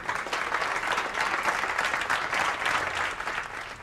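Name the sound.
applause from hotel staff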